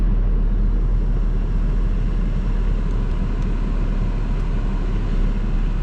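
A 1997–2009 Saab 9-5 petrol engine idles after a fuel filter replacement, a steady low rumble running evenly and close throughout with no voices.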